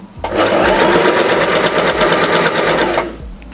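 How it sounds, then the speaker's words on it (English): A domestic sewing machine stitches backwards and forwards, running loud and close in a fast, steady mechanical rattle for about three seconds before stopping. "push your back stitch lever down and stitch backwards, take it off, stitch forwards"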